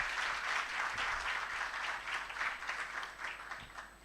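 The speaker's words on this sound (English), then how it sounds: "Another hand clap for Dr. Jane Egao." Audience at a child and adolescent global health research forum claps steadily for a few seconds, a dense, moderately distant applause with no voices over it.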